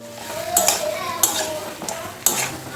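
Chicken legs drop into a sizzling, fried-down spice mix and are stirred, with steady frying hiss under several sharp metal-on-pan scrapes and clinks close by.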